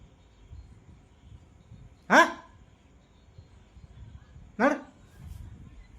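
Two sharp single barks from a street dog, about two and a half seconds apart, each loud and close against a quiet, low background rumble.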